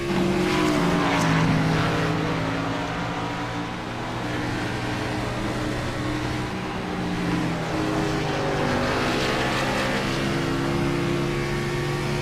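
A race car at Watkins Glen in the iRacing video game drones steadily and loudly, its engine pitch stepping and sliding through gear changes, with no voices over it.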